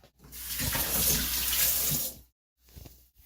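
Tap water runs steadily into a sink as hands are wetted while making whole wheat sourdough bread, a loud continuous splashing for about two seconds, then stops before a brief second trickle.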